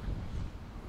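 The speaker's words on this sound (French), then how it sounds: "il y a du Mistral" Mistral wind gusting on a January coastal hike in the Marseilleveyre calanques near Marseille, a steady low, buffeting roar across the microphone with no talk, fairly quiet throughout.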